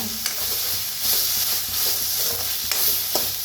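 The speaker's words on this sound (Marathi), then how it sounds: "कांद्याची पात बी ह्याच्यातच भाजून घेऊया" Spring onion greens fry in oil with onion and tomato for a spicy black bean amti, a close, steady sizzle broken by a few soft stirring scrapes; no one talks.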